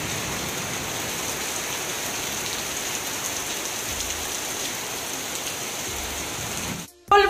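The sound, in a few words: rain falling in the evening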